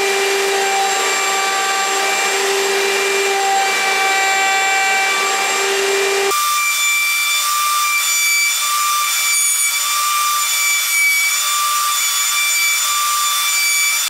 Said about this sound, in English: for the mortises in the corner post, I'm going to use my horizontal mortiser